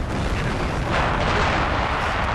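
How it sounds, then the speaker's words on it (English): Heavy video-game artillery barrage, a dense, continuous roar of booms and blasts close and loud throughout, with no pauses between impacts. "Jesus, too much artillery!"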